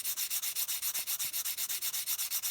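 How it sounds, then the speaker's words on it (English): Sandpaper rubs rhythmically along a wooden edge held at about a 45-degree angle, a fast, steady series of close, quiet scratchy strokes with no talking. "I basically start sanding, basically holding the sandpaper at about a 45-degree angle, trying to break that edge."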